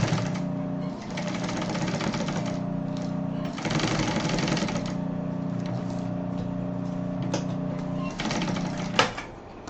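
A sewing machine stitching a cross-body bag, hand-assisted at the crank, running in bursts of rapid even clatter with short pauses and slower stretches, close, ending with a sharp click.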